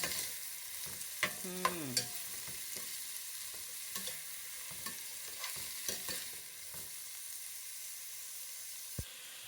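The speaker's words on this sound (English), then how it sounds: "We have to just saute it for a while." Onions and corn sautéing in a pan with a steady soft sizzle, while a spoon stirs and scrapes through them in repeated light knocks and clinks, with no talking.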